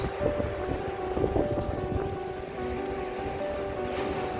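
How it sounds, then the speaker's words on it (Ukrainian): Black Sea surf rolling onto Langeron beach in Odesa on a rainy day, a steady wash of waves with wind noise, close and continuous without any talk. "Боже, які там хвилі."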